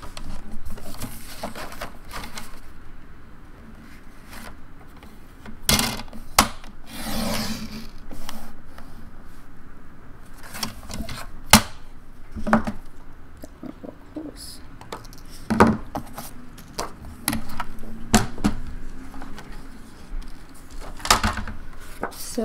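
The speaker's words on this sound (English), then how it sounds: "Slide it down, punch, and trim off the long edge." Paper being punched and trimmed for a Graphic 45 file folder mini album, with scattered sharp clicks and snaps among soft rubbing and sliding of paper across a close work surface.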